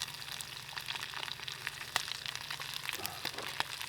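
Fresh fennel seeds sizzle steadily in a hot pan, a continuous crackling fry with small pops and a brief stir near the end, close and moderately loud with no talking.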